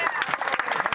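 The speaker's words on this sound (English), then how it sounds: "let's stand together and applaud our true heroes" Applause in the Canadian House of Commons, a brief burst of clapping from members in the chamber, steady and moderately loud.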